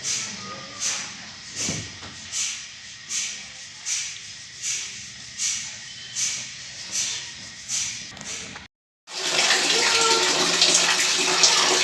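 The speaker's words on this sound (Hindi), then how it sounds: "ये हमने गैस गीजर से गर्म पानी ले लिया है" Hot water from a gas geyser runs for washing a turmeric-stained shirt: soft rhythmic pulses repeat for about eight seconds, then after a brief silence a loud, steady rush of pouring water takes over.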